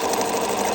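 Sewing machine running steadily while stitching a buttonhole into a hand towel, a close, continuous whirring hum with a fast even mechanical rhythm and no pauses.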